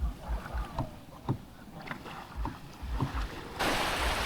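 A boat moves across open water near Lemery, Batangas, with sloshing and splashing, bursts of wind buffeting the microphone, and a louder steady rush near the end.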